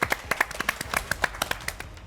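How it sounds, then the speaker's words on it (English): A small group of bakers claps in an uneven patter of sharp hand claps, close by and lasting about two seconds. "give yourselves a round of applause"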